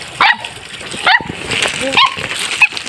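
A dog chasing piglets gives a few short yips and whimpering barks amid outdoor commotion, with scattered rustling and splashing noise around it.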